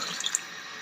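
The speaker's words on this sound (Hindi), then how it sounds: "मैं अब इसमें 4 प्याली पानी डालूंगी।" Water is added to a pot of pulao rice, a steady soft hiss of pouring liquid with a few faint drips, close and continuous under no speech.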